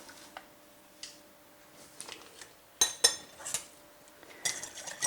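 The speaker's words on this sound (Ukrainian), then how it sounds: "Перемішую." A spoon scrapes and clinks against a bowl of flour, salt and yeast for pizza bun dough in irregular taps, quiet at first and then busier and louder, with no talking.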